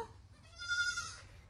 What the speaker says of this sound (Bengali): ইনি ছাগল, এটা ছাগল।